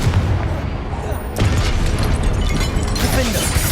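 The Confringo fire spell goes off in the Hogwarts Legacy video game during Charles Rookwood's trial, with loud, dense blasts and crackling bursts one after another, heavy and close.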